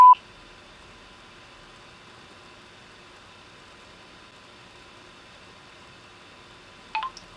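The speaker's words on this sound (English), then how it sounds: "Calling Steve." A Nokia Lumia 800 phone gives short dialing tones during a voice-command call, one brief tone at the start and a cluster near the end, separated by faint hiss.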